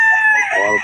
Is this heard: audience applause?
no